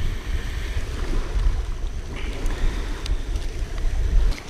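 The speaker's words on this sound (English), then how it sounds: "Wind's blowing a little bit into this shoreline this morning, probably about 10 miles an hour." Steady wind of about 10 miles an hour blows into a lake shoreline, a loud, continuous low rumble of buffeting with faint lapping water and no voices.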